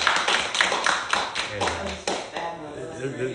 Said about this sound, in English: can we give a round of applause for Miss Carol?